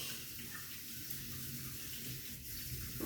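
Faint, steady rush of water running from a tap while tomatoes are washed, continuous and quiet in a home kitchen.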